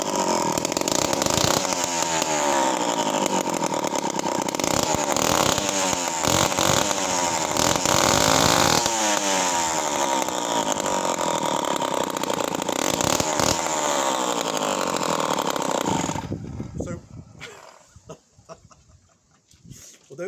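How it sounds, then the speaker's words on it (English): Several powerful chainsaws roar and rev together, deafeningly loud with rapid throttle bursts, before cutting off abruptly to near silence in the final seconds. "I absolutely love these saws."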